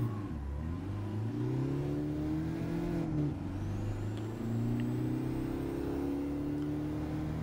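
A car pulls away from a standing start in Gran Turismo 7, its engine note climbing steadily, dropping briefly at each upshift, then rising again through the gears; moderately quiet and steady, with no talk.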